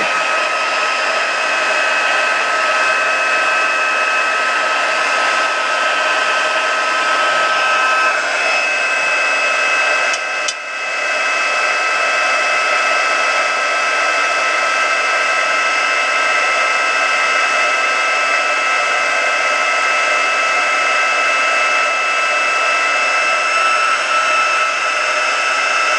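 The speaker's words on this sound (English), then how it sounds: "blow dry it." A hair dryer blows steadily and loudly at a watercolour painting for the whole stretch, a constant whirring rush with a brief dip partway through and no talking.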